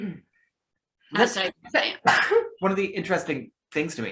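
A single sharp sneeze bursts out near the start of an online chat, followed right away by ordinary conversation.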